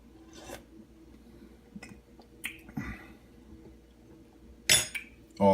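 A utensil stirs beef and vegetable soup in a pot, giving soft scraping and sloshing sounds with a few sharp metallic clinks against the pot near the end, close and fairly quiet.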